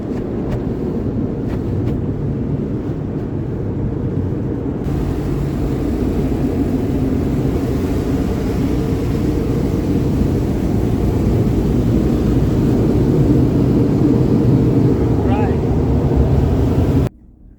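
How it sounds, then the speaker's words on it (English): A Ford F-150 sits inside a car wash, heard from within the cab as a steady, loud, roaring wash of spray and blowing that drums on the truck for well over fifteen seconds, then cuts off abruptly. "Taking it to a car wash, making sure there's no leaks in here."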